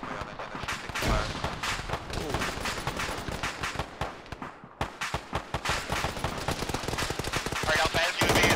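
Sustained automatic gunfire and rapid bursts crackle almost nonstop through a military video game firefight, dense and loud, with a brief lull midway before the shooting resumes.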